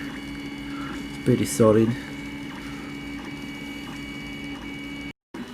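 A 3D printer printing a gun base holds a steady motor hum with a short burst of stepper-motor whines in the middle, and a person briefly speaks nearby.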